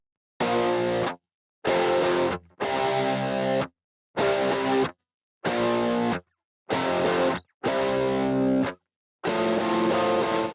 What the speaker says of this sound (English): I also have these double track guitars, hard pan left and right, playing distorted power chords.